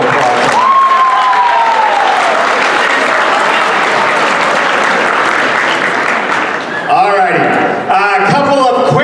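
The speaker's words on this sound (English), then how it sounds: "You can give yourself a round of applause." A crowd applauds loudly and steadily for several seconds at a high school assembly, then the clapping thins out and a voice begins speaking near the end.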